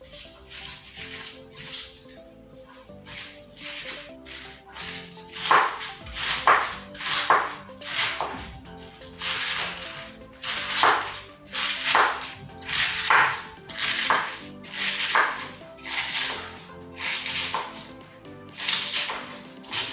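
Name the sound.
knife chopping and dicing cabbage for coleslaw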